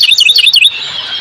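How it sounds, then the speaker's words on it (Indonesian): Birds sing along a mountain trail, giving a quick run of bright, loud chirps for over half a second, then a fainter trailing call over quiet ambience. "biasanya suara burung itu sangat riuh dan udaranya kelihatan lebih bersih"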